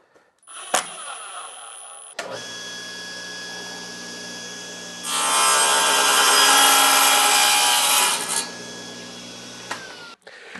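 A bandsaw is switched on with a click and runs with a steady hum, then rises into a loud rasping cut through the wooden base of a dowel cutting jig before spinning down.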